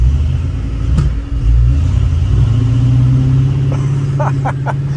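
A 1957 Chevy's engine revs hard and holds a steady, loud rumble as the car attempts a burnout, the drone continuous throughout with a few short sharp transients near the end.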